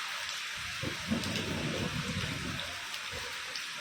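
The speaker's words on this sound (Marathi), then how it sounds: "अचानक हा पाऊस आलेला आहे" Sudden rain during a thunderstorm in Kankavli pours as a steady, moderately faint hiss with soft patter and no talk.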